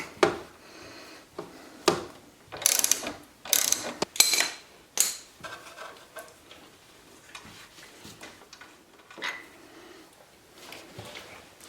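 Ratchet wrench turning out Torx T40 screws during a car stereo install, quick bursts of clicking pawl ratchets in short strokes, close and fairly crisp, separated by brief pauses and quieter handling noises.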